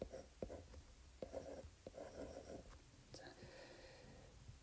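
Chalk or marker writing on a board during a statistical physics lecture, a series of quiet scratchy strokes and taps at close range, with faint breathing and murmuring in the background.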